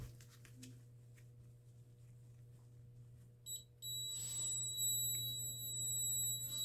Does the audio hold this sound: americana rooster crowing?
no